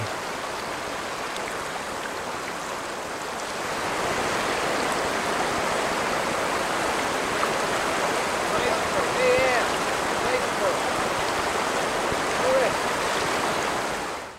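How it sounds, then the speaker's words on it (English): Meltwater river flowing out from the base of a receding Alaskan glacier, carrying small pieces of ice downstream, a steady broad rushing wash heard close and continuous, slightly louder after the first few seconds. "Some small pieces of ice are carried downstream in the glacier's river."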